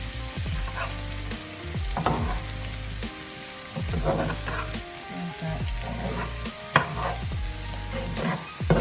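Potatoes frying in a hot skillet with a steady, loud sizzle throughout, broken by repeated scraping and clattering strokes as a utensil stirs them around the pan.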